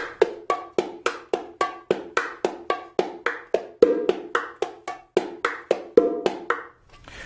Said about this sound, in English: A nice rich open tone on the bass drum.